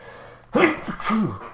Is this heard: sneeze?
yes